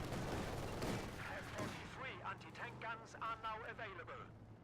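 Video game battle with grenadiers engaging riflemen, with bursts of gunfire crackling early on, then fading under a commentator's continuous talk.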